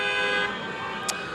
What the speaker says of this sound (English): You hear the horns honking and people are just out driving around